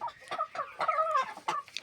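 Decorative laying hens of egg-laying breeds such as Leghorn and Dalmatian cluck close by in a series of short, repeated calls with uneven rhythm.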